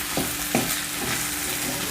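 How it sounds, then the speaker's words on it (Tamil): Cut eggplant stir-frying with sautéed onions and masala in a pan: a brief steady sizzle broken by two or three quick spatula scrapes near at hand. "ஒரே ஒரு நிமிஷம் நல்லா வதக்கிக்கலாம்"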